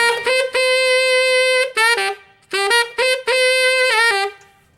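An underblown tenor sax altissimo D rings out full and bell-like in several sustained, bright notes separated by short breaks, played alone and close.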